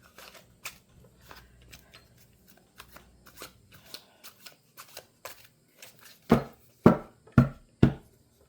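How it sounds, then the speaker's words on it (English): Tarot cards being shuffled with soft riffling and light taps, ending in four sharp, loud slaps of the deck in a steady rhythm, close up. "I'm shuffling for the heart of the matter and the Celtic cross."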